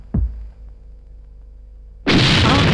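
A kitchen explosion effect opens with a short, deep thud, followed by a low rumbling lull, then a sudden loud, broad roaring burst that keeps going to the end.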